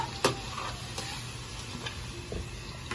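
Ground onion and garlic sautéing in a pan, a faint steady sizzle with a few soft clicks and scrapes of stirring, no voices.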